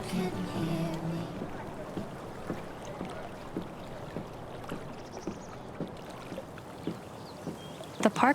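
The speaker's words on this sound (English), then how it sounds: "If not for the paddling, kayaking would be super relaxing." Kayak paddling in Life is Strange: True Colors: steady, evenly spaced paddle strokes dip and splash through calm water about every half second, soft and near against faint wind and background music, with a louder splash at the end.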